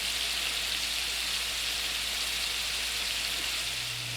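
Scallops sear in a hot pan with a dense, even hiss of sizzling oil that holds steady and fairly loud throughout, with no voices.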